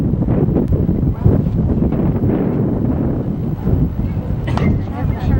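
Wind buffeting the microphone at an outdoor high school baseball game between New Trier and Amundsen, a steady rumbling roar throughout with people talking over it.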